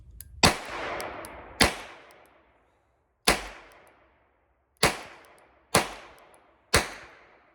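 Six sharp double-action shots from an H&R Model 732 revolver loaded with wadcutters, spaced unevenly over several seconds, each crack loud and close with a short decaying ring.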